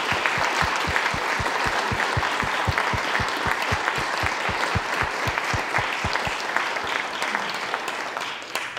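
A church congregation at an Anglican performance of Stainer's The Crucifixion applauds the choir: a full, sustained round of clapping with a nearby clapper keeping a quick, regular beat, easing slightly toward the end.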